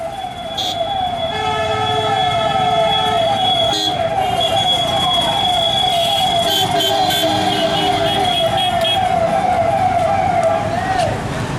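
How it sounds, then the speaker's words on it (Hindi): Loud wailing police sirens blare up close, several overlapping tones rising and falling continuously, with traffic noise and a faint voice underneath, during Holi in Bhind, Chambal. "सायरन बज रहे हैं ताकि यह सायरन हुड़दंगियों की समझ में आए"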